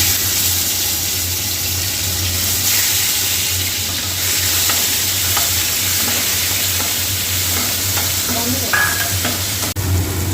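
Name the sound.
frying and stirring spiced ginger-garlic, cashew, tomato and onion paste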